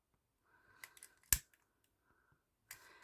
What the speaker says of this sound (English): And then take them with your scissors